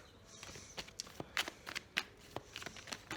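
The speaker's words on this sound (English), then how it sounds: "Let me just pick up the card." Dropped tarot cards get gathered up by hand in a quiet room, with soft irregular rustles, slides and taps close by and no one speaking.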